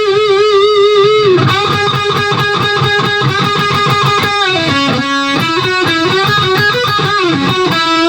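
An electric guitar plays a guitar solo, with fast, bright distorted lines and bends. It is loud and continuous, with no talk.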